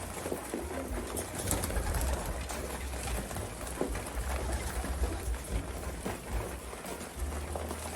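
Racing pigeons, mostly flying hens with a few males, coo inside their loft, a constant layered murmur of calls with scattered scuffs and flutters over a steady background hiss.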